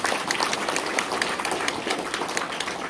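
An audience at a provincial government report meeting applauds in a dense, even wash of many hands clapping, sustained and fairly loud with no voices over it.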